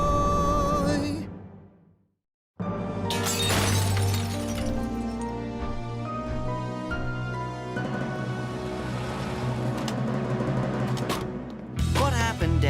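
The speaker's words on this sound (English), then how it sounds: "The glass just started shattering, the windows all came down." Glass windows shatter and come crashing down in a loud, dense burst of breaking and clattering after a brief silence, with music swelling underneath.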